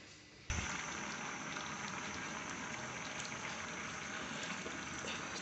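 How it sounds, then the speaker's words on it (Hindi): Black chickpeas with peas, green chilies and spices simmer in a pot on the stove, a steady close bubbling hiss that starts with a soft bump and continues evenly throughout. "अभी चने उबल रहे हैं"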